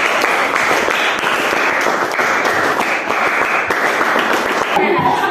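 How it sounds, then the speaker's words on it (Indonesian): A group of students beats out a scout clap (tepuk pramuka) in a classroom, many hands striking in a rapid, patterned rhythm. The clapping is loud and close and runs for several seconds. "2 kali tepuk pramuka"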